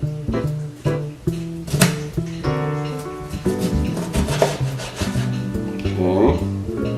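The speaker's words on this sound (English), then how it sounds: "I'm going to try to slice it as thin as possible." Kitchen knife slicing thin rounds for pan-seared white fish, repeated rasping cuts in an uneven rhythm, close and clear.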